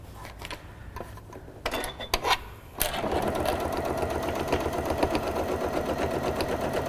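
A sewing machine stitches fabric for a zipper pouch, starting with a few short clicks and starts as the fabric is pivoted, then settling into a continuous, close whirring run.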